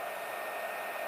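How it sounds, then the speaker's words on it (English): An 850-watt hair dryer blows a steady, even rush of air throughout, close and constant with no pauses or voices. "this dryer is super powerful"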